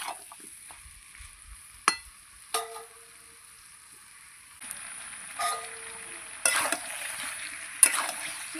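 Fried prawns and vegetables sauté in a full wok for a curry: a faint, steady sizzle, broken by a few sharp clanks and scrapes of stirring and a brief louder hiss, with no talking.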